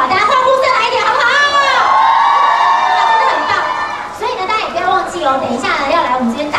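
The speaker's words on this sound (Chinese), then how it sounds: "大家欢呼声来一点好不好" An audience at a Christmas-themed Estée Lauder winter wonderland promotional event cheers loudly, with many shrill, overlapping shouts and screams. The roar dips briefly midway, then surges again.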